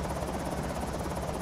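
Constant rotor chop from a helicopter passing overhead in Project Zomboid, a loud, dense, pulsing drone with no pauses.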